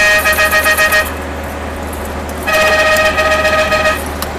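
A truck's three-trumpet air horn, its low trumpet weak, blasts twice in long chords with a pause between, loud and close over a steady engine idle.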